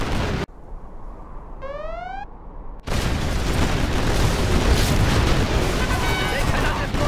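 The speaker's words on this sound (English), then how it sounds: "Our nuclear missile is ready, General." A nuclear missile strike in the game Generals Zero Hour, a loud sustained roaring blast that erupts after a short quieter stretch with a rising tone, rumbling on close and heavy, with voices over the start.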